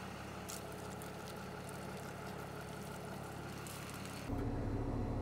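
A farm tractor engine runs with a steady, low idling rumble close by, then the tone shifts to a heavier, deeper drone near the end.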